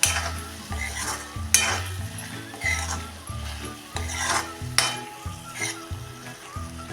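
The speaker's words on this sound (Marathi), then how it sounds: "ही भाजी आता एकसारखी परतून घेऊया" Bottle gourd and lentil vegetable stir-fried in a pan with masala and jaggery, a steady sizzle broken by repeated scraping strokes of a spoon stirring against the metal, close and continuous with no talking.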